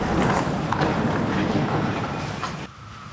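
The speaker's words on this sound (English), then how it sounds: "Cicadas and rain, and I can't do anything about either one of them." Outdoors, cicadas and rain make a dense, loud, continuous wash of buzzing and hiss that holds steady, then drops abruptly near the end.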